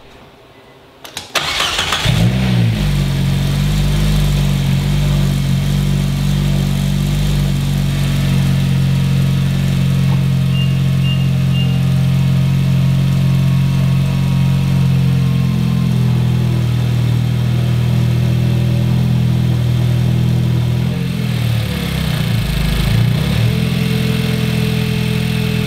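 A turbocharged Nissan MR16DDT engine cranks and fires up, then settles into a steady, loud idle with a low throbbing hum, briefly surging near the end.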